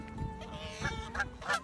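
A goose honks three times in quick succession, close and moderately loud, each call short and nasal with a brief gap before the next.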